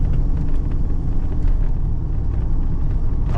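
A Pontiac Grand Prix with a transmission fault idles steadily, a dense low engine rumble holding even and unbroken, fairly close, with no shift audible and no voices.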